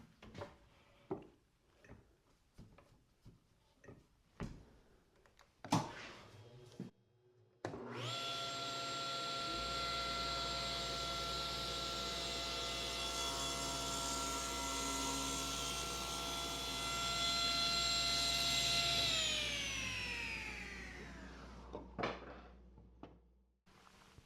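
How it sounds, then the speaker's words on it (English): A table saw spins up and rips a thin strip off a thick white oak board with an ATB-R grind blade, a loud steady whine with stepped harmonics held for about ten seconds before winding down, with handling clatter before and after. "rip just a 1/16 of an inch off so you can see how the blade is functioning as it rips through the board"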